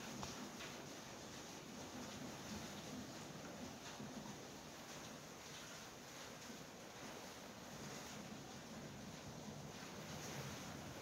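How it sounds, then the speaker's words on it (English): Storm wind blowing steadily outside a garage, a continuous broad rushing roar that holds at an even level for the whole stretch, with no voices. "Not sure if you can hear the wind sound."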